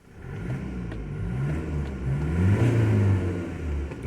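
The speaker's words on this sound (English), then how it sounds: "let's give it a few revs." A low-mileage 2020 Ford Transit MWB 350 with an Ecoblue diesel engine is revved from idle, heard from the cab as the engine note climbs and then falls back over a few seconds.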